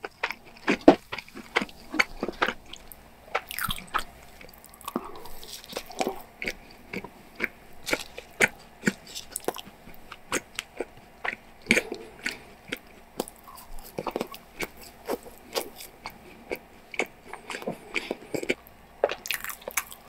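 Close, crisp biting and chewing of bread and bakery desserts from a top Seoul bakery, with clicks and crunchy bites repeating irregularly throughout, no talking.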